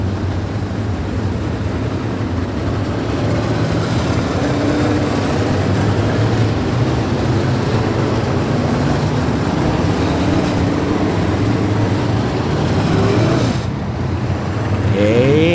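American Modified race cars rolling off on a parade lap at Brownstown Speedway, a steady loud roar of many engines from a full field, continuous and dense throughout.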